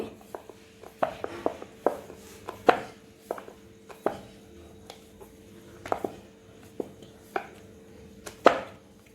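Karanji dough being rolled out into rounds with a rolling pin, giving a run of irregular soft knocks and taps close by, with no talking.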